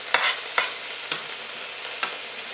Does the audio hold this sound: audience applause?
no